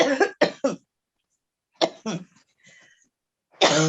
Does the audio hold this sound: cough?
yes